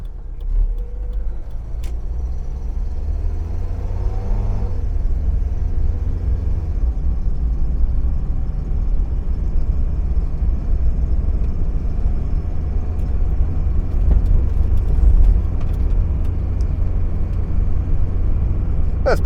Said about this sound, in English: Like it's running on 3 cylinders there now.